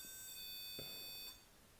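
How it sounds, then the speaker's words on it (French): An electronic device gives off a high, steady multi-tone beep for about a second before it cuts off, faint against quiet room noise. "Est-ce que vous pouvez faire biper 2 fois l'appareil"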